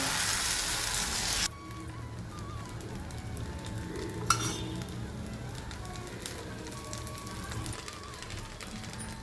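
Sorghum dosa batter sizzles on a hot pan: a loud, dense hiss for the first second or so, then a softer, steady crackle with a few sharp pops.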